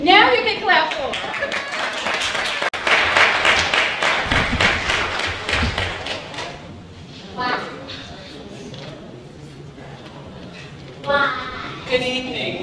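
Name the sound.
audience clapping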